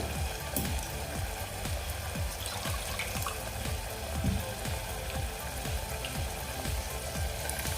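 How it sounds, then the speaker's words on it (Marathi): Ground spice paste water from a mixer poured into a hot pan for black kidney bean curry, a steady liquid hiss and sizzle with soft spattering ticks running throughout. "आता आपण यामध्ये पहिल्यांदा मिक्सरमधलं पाणी घालून घेऊया जे आपण वाटण केलं होतं"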